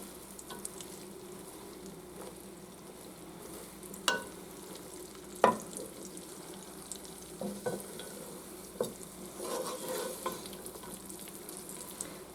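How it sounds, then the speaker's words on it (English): Onions cooking in butter while being stirred, a soft steady sizzle broken by irregular spoon scrapes and clacks against the pan, close and moderately quiet. "stir these onions until they cook down and they are translucent"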